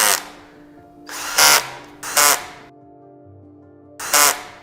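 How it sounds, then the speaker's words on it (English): A power drill drives screws into a FlexiSpot E7 standing desk base, with three loud, short whirring bursts separated by quieter gaps and a faint background hum. "using the X screwing method of attaching the screws"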